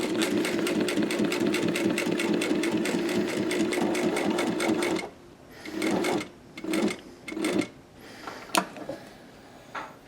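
A sewing machine stitches a BOC pocket onto skydiving gear, running in a steady rapid mechanical rhythm for about five seconds, then stopping and giving a few short separate bursts of stitching with pauses between.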